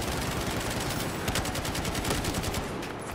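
Rapid bursts of automatic gunfire from Battlefield 4 multiplayer combat hit the player from behind, a dense, loud, continuous stream of shots lasting throughout with no talking.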